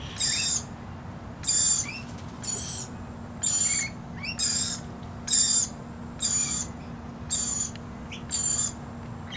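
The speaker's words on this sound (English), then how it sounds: "The high-pitched sound is a baby lorikeet." Shrill, piercing calls of a baby lorikeet repeat in short bursts about once a second, close and loud over a low steady hum.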